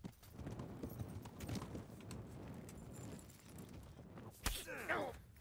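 Horse hooves clip-clop at a steady walking pace in Kingdom Come: Deliverance, a continuous run of soft, close thuds over faint ambient noise, then a brief louder burst near the end.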